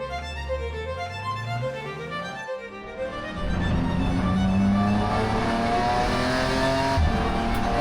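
A GT race car pulls through gears on a track lap, its engine note climbing in rising sweeps, then a brief lift before it surges back to a loud, sustained full-throttle roar.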